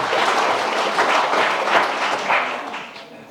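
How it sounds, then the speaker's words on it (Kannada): Loud, dense applause fills the room as an audience welcomes a newly selected Agniveer army recruit to speak at a gathering, sustained clapping that swells briefly then tapers off near the end. "ಜೋರಾದ ಚಪ್ಪಾಳೆ ಮೂಲಕ ಅವರನ್ನು ಬರಮಾಡಿಕೊಳ್ಳಬೇಕು"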